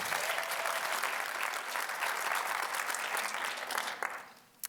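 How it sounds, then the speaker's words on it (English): An audience claps for a newspaper editor at a talk on media and migration, a full, even burst of many hands that holds strong, then thins out and fades near the end with a last few scattered claps. "Please give her a big round of applause."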